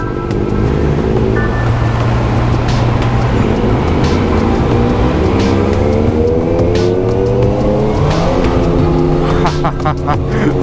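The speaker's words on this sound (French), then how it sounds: "Je viens de mettre un mini coup de poignet et j'ai déjà la roue arrière qui s'est emballée." A Honda motorcycle on a riding course in Bangkok accelerates hard with its rear wheel spinning. The engine climbs through rising revs over a constant rush of wind.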